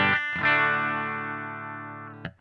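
An electric guitar on its bridge pickup, run through a Dunlop 535Q wah pedal into an amp, strikes a bright chord that rings out and decays slowly before a final short strum, close and alone.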